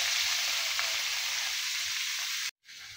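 Meat frying in hot oil for ampalaya con carne, a steady, close, bright sizzle that runs on without a break and cuts out briefly near the end before resuming.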